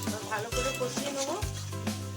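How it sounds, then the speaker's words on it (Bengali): Chicken masala fries in a pan with a steady sizzle and stirring, heard close and continuous beneath a tonal voice. "ভালো করে কষিয়ে নেব।"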